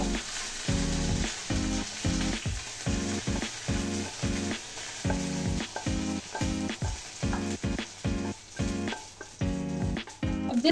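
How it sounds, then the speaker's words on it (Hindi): Onions frying in oil in the same pan used for okra, a loud continuous sizzle punctuated by regular rhythmic stirring strokes throughout, close and with no talking. "अब जिस पैन में मैंने भिंडी फ्राई की है उसी में मैं ये सारे प्याज डाल के फ्राई कर रही हूँ"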